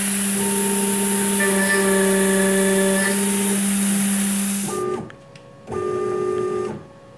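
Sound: CNC machine ATC spindle milling cut at 1.5 thou per tooth

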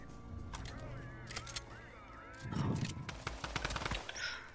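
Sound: gunfire in the video game Fortnite

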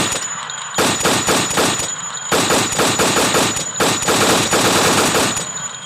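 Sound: AK rifle gunfire in a video game

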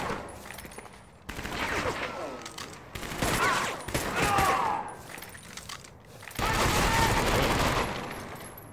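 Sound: heavy gun firing in video game Medal of Honor: Vanguard

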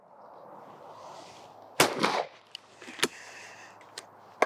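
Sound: shotgun firing at a clay target

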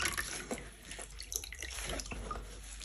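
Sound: rinsing dirty cuff elastics of a leather jacket in water

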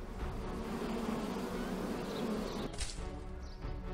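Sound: bees buzzing around a hive in the video game Summer in Mara

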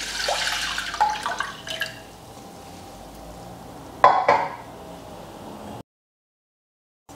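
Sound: milk poured into a saucepan

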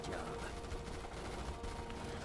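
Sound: machine gun fire in video game Starship Troopers Terran Command

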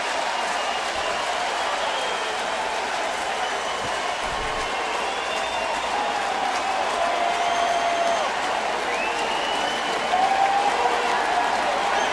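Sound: baseball stadium crowd cheering after back-to-back home runs

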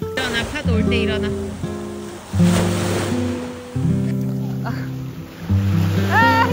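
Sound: sea waves washing ashore at Jeju beach

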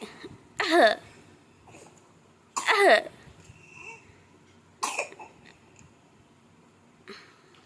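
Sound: coughing

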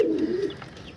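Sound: pigeon

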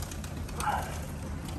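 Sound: white pigeons cooing

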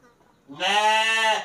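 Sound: thin-tailed sheep in a simple livestock pen

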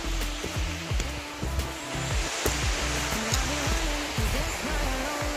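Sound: waterfall on the Jirisan trail

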